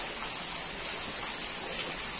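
Heavy monsoon rain falls in Kolhapur, a steady, dense hiss of downpour that holds evenly throughout with no talk.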